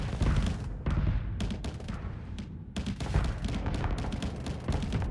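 Spaceship turrets in the Starsector video game fire in rapid, dense bursts of gunfire-like blasts with heavy low rumble, near and loud, pausing briefly before resuming.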